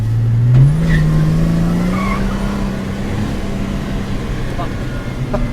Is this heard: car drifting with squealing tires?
yes